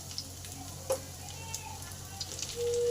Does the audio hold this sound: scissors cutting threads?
no